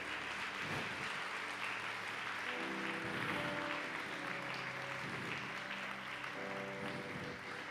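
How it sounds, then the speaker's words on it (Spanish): Church congregation applauding during a sermon, steady loud clapping that fills the room, with sustained musical tones, likely a keyboard, playing underneath for most of the stretch. "Dar un aplauso a mi rey"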